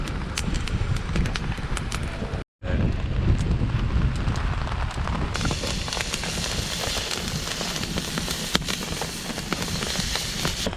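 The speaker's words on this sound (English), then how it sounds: "The rain's really pouring" Heavy rain pours steadily onto a tarp over a wilderness campsite at North Tea Lake in Algonquin Provincial Park, a dense, loud, continuous hiss and patter that cuts out for a moment near the start, then resumes.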